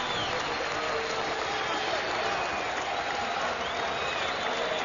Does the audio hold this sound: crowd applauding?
yes